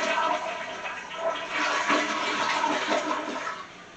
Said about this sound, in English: Baby Daisy, you forgot to flush